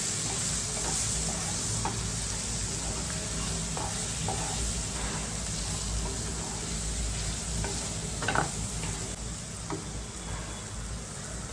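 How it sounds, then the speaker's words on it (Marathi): Spices and onions sautéing in oil in a pan for a dry kardi (small shrimp) aambat, a steady sizzle with occasional stirring scrapes and clinks, close and continuous throughout. "सर्व मसाले आपण चांगले परतून घेऊया कांद्यामध्ये"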